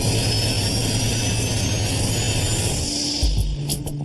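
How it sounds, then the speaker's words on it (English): An airliner in a stall, falling, gives a loud, continuous roar of jet engines and rushing air with low rumbling throughout and a brief heavier thump near the end, no voices. "Drag increases, the speed drops, the plane goes into a stall."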